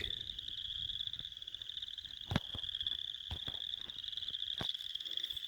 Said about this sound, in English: something over there, I think it was a wood frog, sounded almost exactly the same